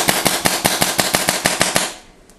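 Eleven or twelve quick, sharp pops from an Ego paintball marker fire in an even, rapid rhythm, each crack close and loud, then stop abruptly, leaving faint ambient noise.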